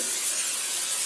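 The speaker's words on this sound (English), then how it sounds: "I'm going to use this pan spray and spray all around." Cooking pan spray of canola oil hisses steadily into a roasting pan, a close, continuous aerosol spray with no voices.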